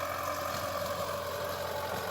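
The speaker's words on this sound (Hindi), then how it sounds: "अब यहाँ से बैक लेते हैं ट्रैक्टर को" A tractor used with a rotavator in a field runs at a steady idle while turning and backing up, a continuous mid-pitched engine drone with a low hum and faint knocking, no talk.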